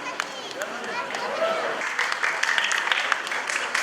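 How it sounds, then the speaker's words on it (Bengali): An audience at a dance academy performance applauds loudly and steadily, a dense wash of many hands clapping at close range throughout, with no clear speech on top. "একটু জোরে করতালি প্রত্যাশা করছি আপনাদের কাছ থেকে।"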